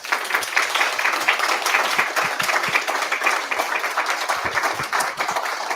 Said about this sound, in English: Let's just start by giving them a hand of applause.